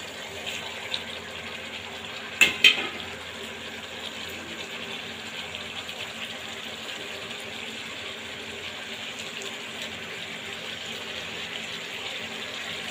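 Bony fish sizzling as it fries in a pan with bottle gourd stalks, a steady hiss throughout, broken by two sharp clatters early on as the fish is dropped in and stirred.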